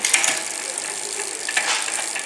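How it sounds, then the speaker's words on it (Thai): Rapid mechanical clicking of a bicycle ratchet and gear shift during derailleur adjustment, steady and close, with a few sharper clicks partway through. "อย่างเกียร์นี้เราไม่ดังนะฮะเราก็สับเกียร์ขึ้นไป"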